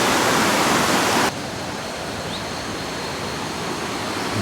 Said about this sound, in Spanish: Este es el puente y acá está el río.